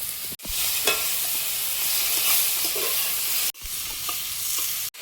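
Pointed gourd fries in a pan with slit green chilies and tomato. A steady soft hiss of frying runs throughout, with occasional stirring scrapes and a couple of brief gaps, and no one speaks.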